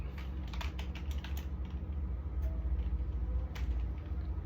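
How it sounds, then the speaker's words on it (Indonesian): Keys clack in short, uneven bursts as a command for the Snort network tool is typed on a computer keyboard, close up over a constant low electrical hum. "Kemudian selanjutnya kita ketik Snort"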